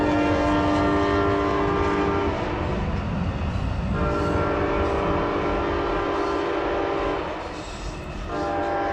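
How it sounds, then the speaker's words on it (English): A fast passenger train roaring past in Michigan City, Indiana, with a loud, sustained horn blast that breaks off and returns several times over the heavy rumble of the cars, close and with no voices. "I'm not used to seeing trains travel this fast."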